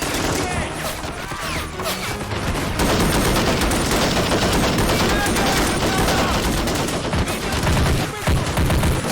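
A heavy DShK machine gun fires in long, dense bursts in a video game battle, with overlapping gunfire from other weapons filling the whole stretch and a brief lull near the start.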